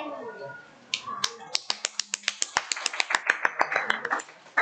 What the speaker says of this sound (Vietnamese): Tự làm tự vỗ tay thôi